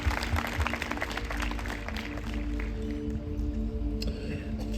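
A church congregation applauding for two worship leaders after a song, a short burst of mixed clapping that quickly thins out, with a voice speaking over it.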